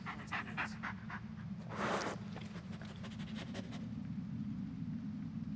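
Bullet the dog in Blair Witch pants in quick, rhythmic breathy bursts close by, fairly soft over a steady low hum, with one louder huff near the two-second mark.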